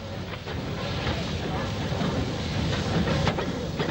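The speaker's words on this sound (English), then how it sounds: "Later that day, the A4 passed through Banbury." An LNER A4 steam locomotive passing through Banbury with its train, a continuous loud rumble and rolling wheel clatter with occasional sharp rail clicks, sustained and close throughout.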